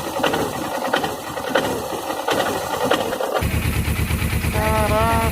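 A Suzuki GS 500 motorcycle engine, running without oil and with a noise suspected in the cam chain or magneto gear, idles roughly and is then revved, its rapid mechanical clatter loud and close.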